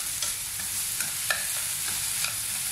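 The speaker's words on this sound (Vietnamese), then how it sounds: "Mình không nên xào lâu quá," Beef stir-fried with betel leaves and onion in a pan, a steady bright sizzle with light scraping and stirring taps scattered throughout, close and continuous with no voices.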